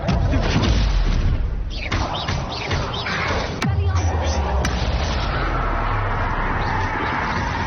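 Confringo blasting spell explosions in a Harry Potter video game, several heavy booms and crashes with a sharp crack midway, followed by a low rumbling tail, close and loud.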